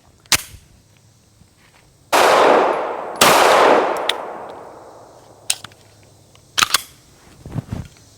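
Two loud pistol shots from a Canik TTI or CZ P-10C ring out a second apart, each with a long rolling echo and a thud of hitting the target, framed by sharp clicks and faint knocks.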